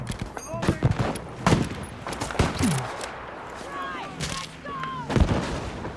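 Video game gunfire in Battlefield V, with sharp shots cracking out irregularly, some in quick bursts, loud and close amid battle noise, while a voice talks intermittently.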